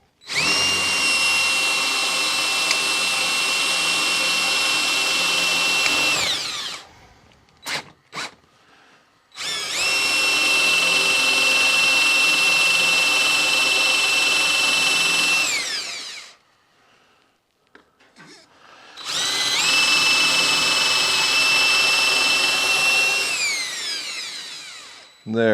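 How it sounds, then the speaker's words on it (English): A step drill bores epoxy out from inside a broken graphite golf club shaft, whining loudly and steadily in three long bursts separated by short pauses with a few clicks and knocks. "that step drill, when you start making that heat on the inside, will help break free all that epoxy"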